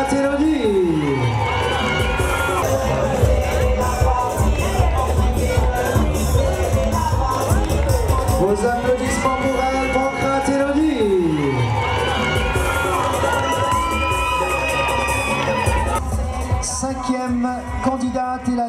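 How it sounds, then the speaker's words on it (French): A large crowd at a Miss pageant during a town's patronal festival in Mana cheers and shouts loudly and continuously, with whoops and children's voices over background music and an announcer. "Les applaudissements pour elle"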